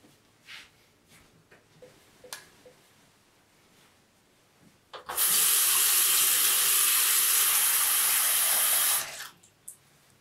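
Tap water pours steadily into a sink for about four seconds of handwashing, loud and close, with only small handling noises before and after.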